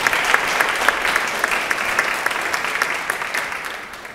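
Church congregation applauding during a Presbyterian Sunday worship service, a steady wash of many hands clapping with a few sharper claps standing out, sustained evenly for several seconds before easing slightly.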